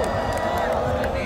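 A live concert crowd cheers and applauds for a band's vocalist, a dense, steady wash of clapping and cheering that fills the whole short moment.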